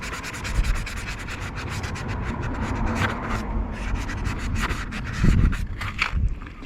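Rust being rubbed off the electrical contacts and pickups of a Husqvarna 22R trimmer, a close, steady scratchy scrubbing with a short rhythmic burst of harder strokes near the end.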